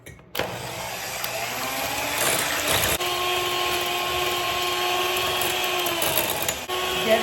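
An electric hand mixer beats Hungarian cake batter with baking powder and a pinch of salt, a loud steady motor whine starting abruptly and holding its pitch, with brief bumps as the beaters move.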